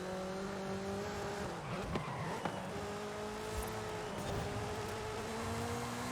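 A race car in Forza Horizon 5 taking an S-curve flat out, its engine droning steadily at high revs with shifting pitch, brief tire squeals and bumps midway, close and continuous with no talk.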